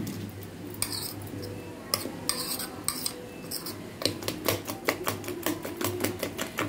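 Egg omelet mixture with ginger-garlic, pepper powder and salt being whisked in a bowl, a quick run of close, bright metallic clinks of a spoon against the bowl, speeding into steady rhythmic strokes toward the end.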